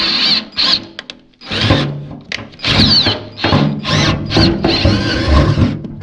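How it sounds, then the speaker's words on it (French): A power drill bores through the metal cab of a Someca tractor being fitted onto a Massey 865, in several short, whining, squealing bursts separated by pauses, loud and close. "en train de percer la cabine"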